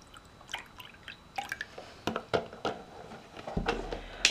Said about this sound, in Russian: Сначала я налью молоко.